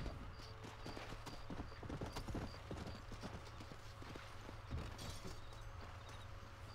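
Stagecoach horses in Red Dead Redemption clip-clop steadily on a dirt trail, a brisk, close rhythm of hoofbeats with faint creaks of the coach and quiet ambient game sound.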